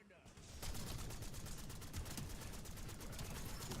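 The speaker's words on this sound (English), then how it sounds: "K78, nice gun. Good fire rate, lots of ammo." Black Ops 7 K78 gun firing in the video game, a long unbroken burst of rapid, evenly spaced shots at a fast rate, loud and close, continuing to the end without pause.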